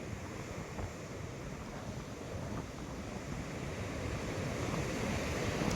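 Wind gusts across a hilltop viewpoint overlooking the Chamunda Mata temple at Uncha Kotda. The rush is steady and broadband, buffeting the microphone, and it grows slightly louder toward the end, with no voices.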